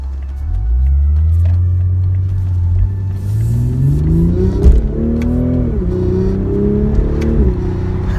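A 2020 Toyota Supra's engine revs hard through a corner, loud and close, a deep rumble climbing in pitch with shifts and surges as the car accelerates, with no talking over it.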